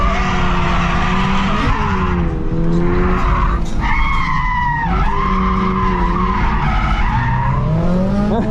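A Nissan 240-style car with extra torque drifts up a salted hill under e-brake, engine revving and falling in waves while tires squeal and skid loudly and continuously, close by.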